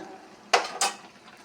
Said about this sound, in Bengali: এখন ভালোভাবে মিলিয়ে দিচ্ছি গরম মশলা, চিনি সব ভালোভাবে নেড়ে দিচ্ছি।